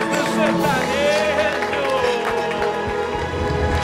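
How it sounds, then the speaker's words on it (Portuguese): A TV stage audience applauds two singing sisters, a dense, loud wash of clapping and crowd noise with a host's voice talking over it. "Uma salva de palmas para as princesas do"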